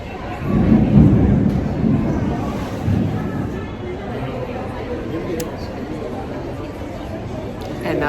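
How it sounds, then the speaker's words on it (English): Rolling thunder swells early and then fades into a steady wash of pouring rain during a thunderstorm, heard from near an airport with voices talking over it. "Oh, and there's the lightning."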